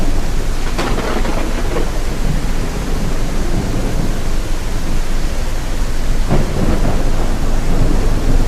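A thunderstorm with heavy rain in a ship simulator game, a loud, constant wash of rain hiss with low rumbling thunder underneath and a couple of faint sharp cracks, no voices.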